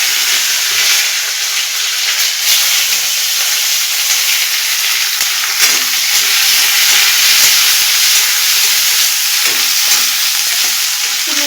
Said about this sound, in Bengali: কড়াইতে তেল গরম হয়ে গেছে এবার দিয়ে দেবো ক্যাপসিকাম ক্যাপসিকামগুলো হালকা করে ভেজে নিয়ে